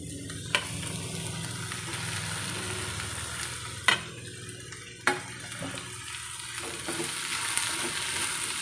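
Potatoes and ivy gourd fry in a pan with a continuous close sizzle, punctuated by three sharp spatula knocks against the pan and soft stirring scrapes, with no voices.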